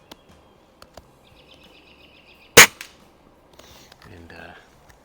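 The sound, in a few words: Daisy Model 131 .177 break barrel pellet gun firing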